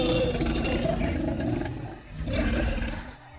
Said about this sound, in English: It is said to have a thunderous roar that echoes through the trees